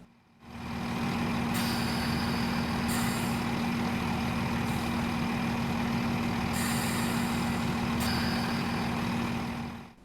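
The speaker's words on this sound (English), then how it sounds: "the unit has the default Kuju era brake release sounds" A Class 150/1 Sprinter train in Train Simulator gives a loud, steady mechanical drone with a constant hum, broken by several sharp hissing bursts of brake release.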